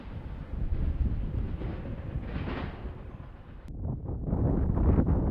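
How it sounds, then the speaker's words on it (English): Steady wind roars and buffets outdoors by a railway line, a dense low rumble that swells and gusts throughout with no voices. "So windy out, making it feel much colder than it is."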